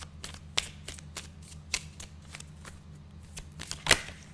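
Cards are shuffled close up during a psychic pick-a-card reading, a series of crisp riffling snaps spaced about half a second apart, ending in a sharper, louder flurry over a faint background hum.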